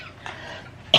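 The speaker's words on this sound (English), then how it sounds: "I'm just coughing and cold." A single sharp cough bursts out near the close after a second of faint low murmuring, loud and close to the microphone.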